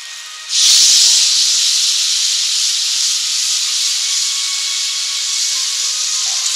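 Spinach puree poured into cooked spices in a hot pan sets off a loud, sudden sizzle that settles into a steady, bright hiss lasting several seconds, with no talking.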